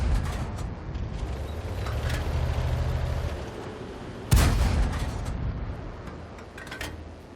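A tank cannon in World of Tanks fires one loud, booming shot partway through, its blast ringing out over a low rumbling engine and ambient battlefield noise. Distant thuds sound before and after it.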